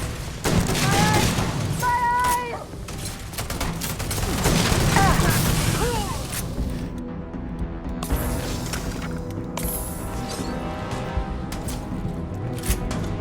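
Shotgun blasts and other gunfire ring out in a Starfield firefight, sharp bursts crowded together early on, then sparser impacts under ongoing voices and game sounds.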